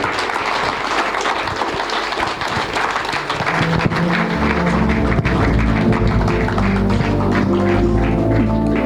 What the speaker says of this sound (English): Please put your hands together for him.